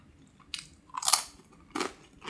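Close-up crunchy bites and chewing of thin, crusty Pizza Hut pizza crust, four distinct crisp crunches spaced irregularly in otherwise quiet surroundings.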